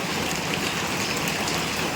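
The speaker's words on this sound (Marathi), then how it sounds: "काल रात्रीपासूनच पाऊस आहे" Steady rain falling continuously in the Konkan region, a dense even hiss of drops on surfaces with no pauses and no voices.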